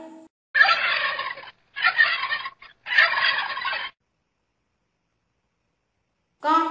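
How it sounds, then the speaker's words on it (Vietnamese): A turkey gobbles in three loud, rapid rattling bursts separated by short pauses, followed by silence and the start of another gobble, with no other sounds around. "Con gà Tây."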